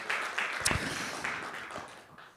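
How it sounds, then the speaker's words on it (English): Audience applause at a project presentation event, a short burst of scattered clapping that fades within a couple of seconds. "Big applause for By Waste that we invite on stage"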